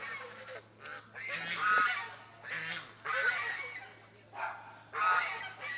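Several geese honk in loud, repeated bursts, fairly close, with brief pauses between calls and faint background noise.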